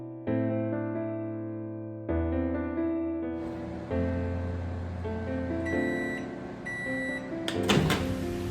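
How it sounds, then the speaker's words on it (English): A microwave oven hums steadily while cooking a big chocolate chip cookie for one minute, with a low drone and shifting tonal whine, ending in a brief clatter near the close, with no talking. "let's get over to the microwave so we can pop it in and pop it out"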